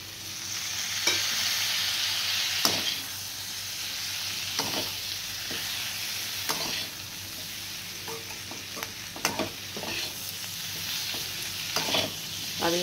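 Spices and tomato cook in a pan for a paneer curry, with a continuous soft sizzle and repeated scrapes and clinks of stirring.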